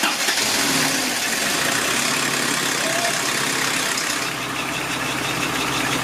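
Toyota 22RE engine in a 1984 Celica GTS running just after start-up, heard as a loud, close, steady rumbling idle with no voices.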